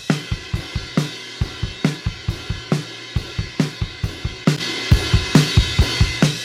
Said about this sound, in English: So without the main processing, it sounds like this.